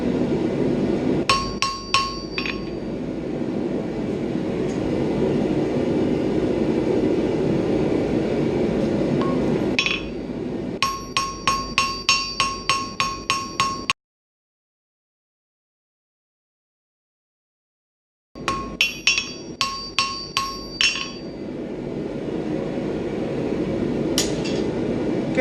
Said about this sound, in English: I'm not working my hammer a whole lot this way. I'm also hitting it a little bit